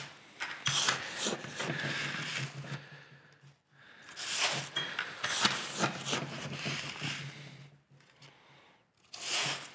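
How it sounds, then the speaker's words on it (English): Dry bag being filled with sand by hand-scooping to about ten pounds, with repeated rustling, scraping bursts of grainy material and fabric handling, close and moderately loud, separated by brief pauses. "I just open up my dry bag and then I start scooping until I get 10 pounds of sand in here"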